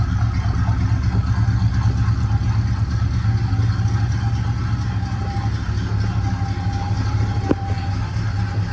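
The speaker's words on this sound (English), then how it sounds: "Exhaust sounds" A 1973 Plymouth Road Runner with a 340 engine idles steadily with a deep, rumbling exhaust drone, loud and continuous throughout, with no voices.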